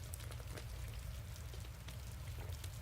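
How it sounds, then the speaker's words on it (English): Rain from the video game Witch on the Holy Night falls steadily at a faint level, a soft, even patter of drops over a low background rumble with no voices. "The rain had subsided somewhat by the time she reached the school gate."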